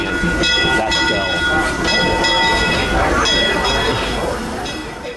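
The Disneyland Railroad train rolls into the Main Street station, its bell clanging in a repeated rhythm over a rumbling, clattering approach, close and loud, fading slightly at the end.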